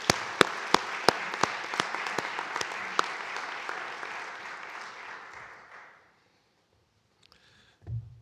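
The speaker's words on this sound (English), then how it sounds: "please join me in giving one more round of applause to Patricia and Charles Robertson." An audience at a ceremony applauds with a steady roar of clapping and a few sharp, close claps standing out, which fades away after about six seconds into near silence before a brief low thump.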